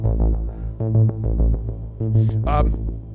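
A Pittsburgh Modular SV1 synthesizer bass line plays alone, a few sustained, buzzy low notes in a steady rhythm with a brighter swelling tone near the end.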